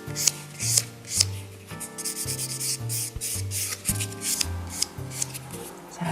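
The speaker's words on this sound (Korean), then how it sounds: "거친 부분이 끝났으면 바로 반대 부분 이용해서 똑같은 방법으로 표면 샌딩 해 주실 건데요." A nail file rubbing back and forth across a fingernail surface during a basic manicure, rhythmic close scratchy strokes repeating steadily with a faint musical background.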